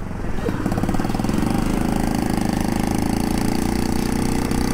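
A Honda Monkey 50cc motorcycle engine buzzes steadily at close range, droning at a constant pitch without revving up, running very slowly and needing a service.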